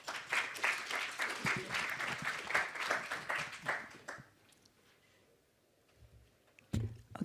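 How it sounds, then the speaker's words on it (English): Audience applause for a lecture speaker, a dense patter of many hands clapping for about four seconds before dying away into quiet room noise and a thump. "Let's give a warm round of applause for Daphna,"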